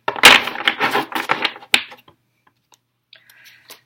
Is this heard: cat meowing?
no